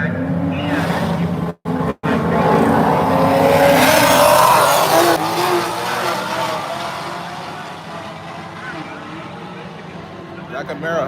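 A Camaro race car roaring down the drag strip at Bradenton during an FL2K racing event, a loud engine howl that swells, passes and fades, with voices and crowd noise mixed in.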